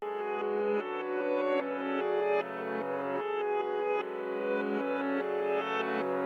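A reversed piano melody plays: swelling notes with a smeared, backward attack over sustained harmonics, continuous and loud with no voices.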